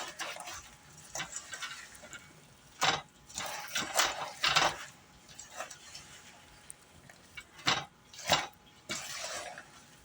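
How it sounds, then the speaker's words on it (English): Apples being stirred in a cooking pot at home, with irregular clinks and scrapes of a utensil against the pot and occasional louder knocks, close by, with no talk. "now we're going to give it another stir. Get all those apples right in there."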